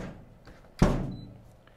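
The lid of a Masterbuilt 1050 charcoal smoker shuts with a single dull thud, followed by a short fading rumble and then quiet.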